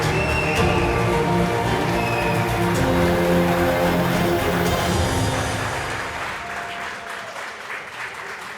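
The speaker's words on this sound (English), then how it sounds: "Let's give him a huge round of applause." A large summit crowd fills a hall with loud, sustained applause welcoming General James Jones, dense clapping and cheering that holds strong before gradually thinning toward the end.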